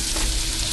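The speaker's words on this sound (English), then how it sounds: "We're gonna go ahead and throw our onion in here." Onion hitting hot safflower oil and half a stick of butter in a pot for New England clam chowder, a dense, steady close sizzle and crackle throughout.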